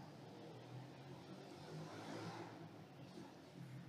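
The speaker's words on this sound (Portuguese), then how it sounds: "os carros aí estão fazendo bastante barulho" Faint, continuous rush of car traffic passing outside, a broad engine-and-tire noise that swells slightly midway, distant and low in level, with no talking.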